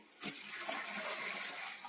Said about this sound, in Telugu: తర్వాత వాటర్ పోసేయాలండి